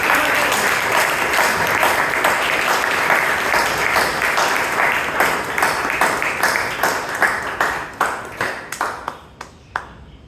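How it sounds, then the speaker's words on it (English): Audience applause at a Toastmasters club meeting in Bangalore, a dense burst of many hands clapping that holds steady, then thins into scattered separate claps and fades out near the end. "Can we have a huge round of applause for Toastmaster and Naveen, who's presenting"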